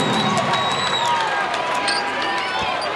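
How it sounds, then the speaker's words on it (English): A volleyball match crowd roars and cheers loudly and continuously, with whistles and shouting in a big indoor arena and people talking over the noise. "That got the crowd going."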